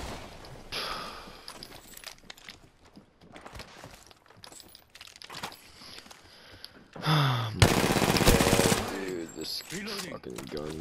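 Rapid bursts of video game gunfire from a battle royale match, loud and close, with heavy firing clustered in the second half and someone talking over parts of it.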